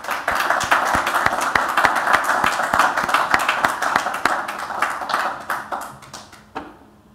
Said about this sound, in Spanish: Junto con agradecer con este cariñoso aplauso a la ponencia del doctor Gaitán